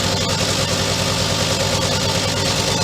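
Suzuki K11 engine idling steadily on a cheap Chinese carburetor, a loud, continuous mid-pitched running drone with even vibration and no pauses or voices.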